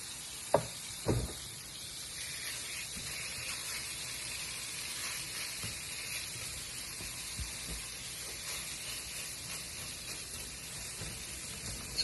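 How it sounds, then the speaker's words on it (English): Meatloaf mixture shaped like a big hamburger sears in a hot pan, giving a steady, close sizzle and hiss throughout, with a couple of sharp knocks near the start. "we're already sizzling down there. This is searing."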